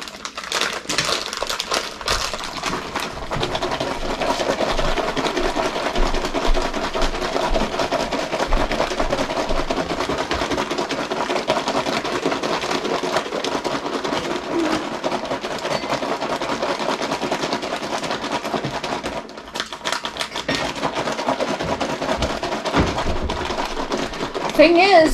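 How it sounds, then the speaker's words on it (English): A zipped container shaken hard and continuously for about twenty seconds, giving a steady, dense rattling and scraping churn that dips briefly near the end before resuming. "Shake the crap out of it."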